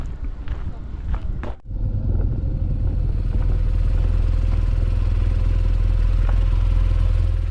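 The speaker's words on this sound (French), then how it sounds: "Nous voici en moto" A motorcycle rides through stalled traffic on the road toward the Piton de la Fournaise volcano on Réunion, with a steady engine drone and wind buffeting the microphone after a brief clatter at the start.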